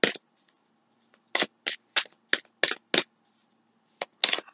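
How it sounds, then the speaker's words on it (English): Tarot cards are shuffled by hand, a series of about nine short crisp riffling bursts in an irregular rhythm, close and fairly quiet with near silence between them. "And as I'm shuffling,"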